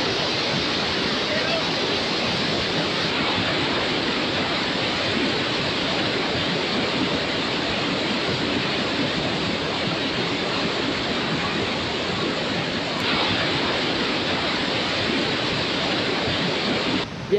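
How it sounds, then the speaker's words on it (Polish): Victoria Falls on the Zambezi River thunders with a constant, dense roar of falling water, loud and unbroken throughout, with no voices rising above it. "Są najpiękniejsze wodospady, jakie widziałem w życiu."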